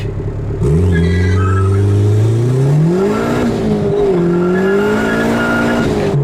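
A boosted B20B-swapped 1995 Honda Civic EJ coupe launches hard with wheelspin: the engine note climbs steadily through the revs while the tires squeal, loud and close, with no talking.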